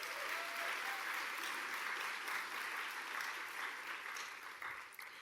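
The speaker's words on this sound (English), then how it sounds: "We can give them a round of applause" Lecture-hall audience applause at a higher-education talk, steady dense clapping throughout, loud and continuous, easing slightly toward the end.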